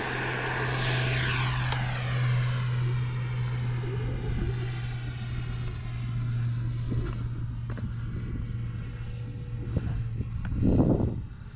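An X-Fly Sirius RC jet with an EDF fan and a China Hobby 5000 battery whines overhead at a sunset flight, its pitch sliding downward as it passes, then rising to a louder roar near the end.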